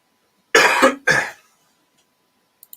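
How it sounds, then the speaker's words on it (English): Two sharp, close coughs in quick succession during a microphone check before a live stream, followed by quiet. "Just did a mic check on you and you coughed and it come up lovely"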